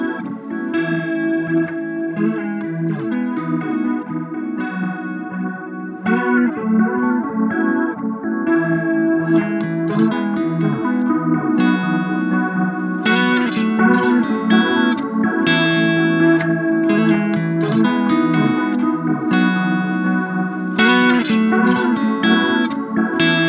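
Strymon Brig analog delay pedal with modulation engaged, shimmering repeats and chorus-like wobble trailing sustained electric guitar chords and notes, steady and loud throughout with no talking.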